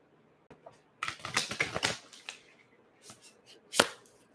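Quick bursts of tarot card shuffling, crisp riffling clicks in short clusters close to the listener, with gaps of near silence between.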